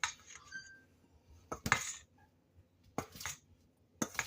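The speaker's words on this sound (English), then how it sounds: "I'm going to get a spoon so I can sort of aerate that" Metal spoon clinking and scraping in a bowl while stirring self-rising flour, a few sharp separated taps and scrapes, quiet in between, no talk.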